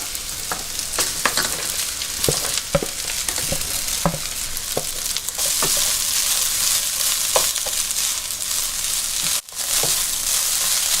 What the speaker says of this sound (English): You want to constantly stir the fried rice because if you leave it alone on high heat, it will burn the bottom.